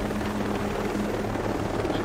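A video game helicopter drones in a steady rotor whine with a low hum, loud and constant throughout, with no talking.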